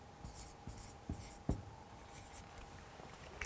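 Chalk or marker writing on a board during a maths lesson, a few quiet scratchy strokes and taps spaced irregularly, close by with faint room hum and no talk.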